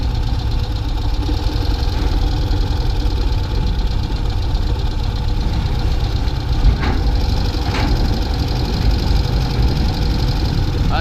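A river ferry's engine drones steadily while the unmoored boat holds against the landing under power, a loud, continuous low rumble with faint knocks and no talk.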